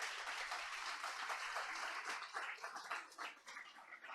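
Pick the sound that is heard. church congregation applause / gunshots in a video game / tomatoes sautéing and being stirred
church congregation applause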